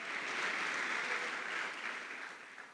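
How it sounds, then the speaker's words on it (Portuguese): A church congregation applauds during a sermon, a steady, fairly faint wash of clapping that fades slightly toward the end. "Glorifica o nome dele enquanto você aplaude."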